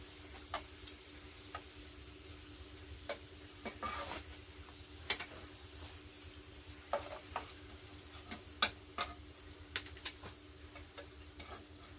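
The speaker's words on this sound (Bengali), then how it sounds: "এই দেখো পাঁপড়গুলো আমি এক এক করে ভেজে নিচ্ছি।" Papad frying one by one in hot oil in a wok, a quiet background hiss with a steady hum, punctuated by sharp intermittent crackles and clicks as pieces bubble and are turned.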